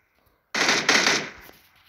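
Gunfire in PUBG Mobile landing a headshot: a sudden loud burst of shots that cuts in after silence, with a second punchy crack partway through, then decays quickly into quiet.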